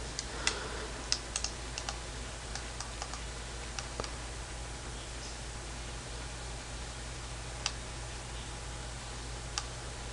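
Keys clack on a computer keyboard as an ipconfig command is entered, sparse clicks in short bursts, faint over a steady electrical hum.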